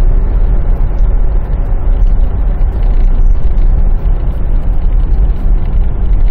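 A 2005 Kia Sorento coasting with the accelerator released, giving a steady low road and engine rumble from inside the cabin that holds at an even level with no voices.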